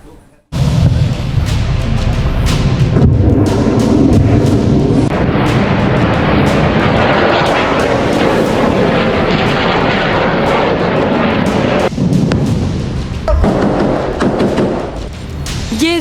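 Fighter jet airstrikes on targets in southern Lebanon: a loud, continuous roar of heavy bomb blasts and rumbling thuds, dense and sustained, with jet noise mixed in and a voice speaking over it.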